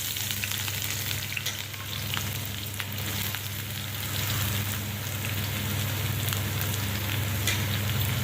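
Chopped onions and garlic frying in a pan for homemade pizza sauce, a steady loud sizzle with a low constant hum underneath and faint crackles throughout, no voices.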